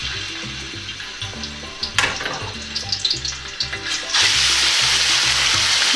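Pork hits hot oil in a pan for a Bicol Express, giving a sudden loud, steady sizzle after a few seconds of clattering and a short earlier burst of frying.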